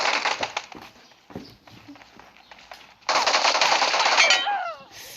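Bursts of automatic gunfire from the mobile game PUBG Mobile, a dense rapid volley at the start, then quieter shots, then another loud sustained burst, with faint voices around.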